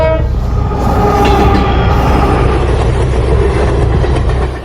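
A Dibrugarh-bound Shramik special train running near Hojai, Assam, rumbles loud and close with a continuous roar of wheels and carriages, a horn-like tone near the start.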